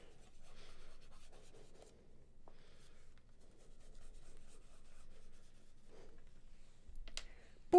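Soft scratchy rubbing of a pastel stick being worked across paper while colouring shading in an adult colouring book, quiet and close, in uneven strokes with a few faint clicks and no voices.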